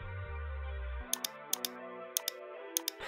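Numbers typed into an Excel spreadsheet on a computer keyboard: a few crisp, close key taps in small pairs, spaced out over a low tonal background that fades after the first second.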